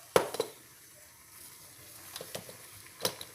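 Kabyle galette (aghroum) cooking slowly in a pan over a fire at low to medium heat, giving a soft, quiet sizzle with a few brief scraping taps near the start and end.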